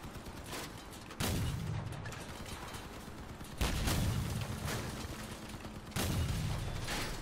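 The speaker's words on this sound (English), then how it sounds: "There is somebody shooting at me" Vehicle combat gunfire in Crossout, with three heavy booming shots spaced a couple of seconds apart over a steady rumbling background of continuous rapid fire.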